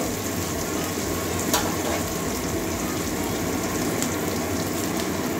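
Onions frying in a pan for a Bengali rui fish curry with kolmi greens: a steady, close crackling sizzle with dense fine pops, continuous throughout with no voices.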